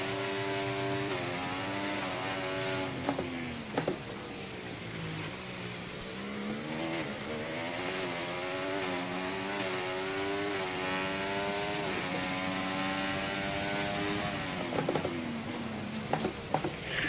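Race car engine in the F1 24 video game during the Singapore race, a continuous high-pitched whine rising and falling through gear changes and revving, loud and close from start to finish with no talk.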